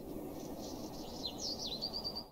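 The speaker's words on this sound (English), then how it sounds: "Forest biomes have birds chirping," In a Minecraft forest biome with the Ambient Sounds mod, a few soft bird chirps and short warbles play faintly over a steady, quiet background hiss.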